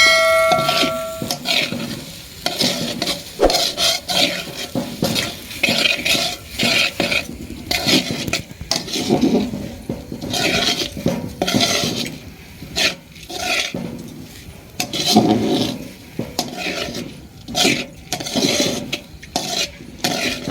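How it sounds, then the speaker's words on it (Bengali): Lentils and spices for khichuri are stirred in a pot, a steady scraping and rubbing of a spoon against the metal with light sizzling, continuous and close for the whole stretch with no talk. "ডালটা এবার ভালো করে মশলার সাথে মাখিয়ে নেড়ে চেড়ে নিই"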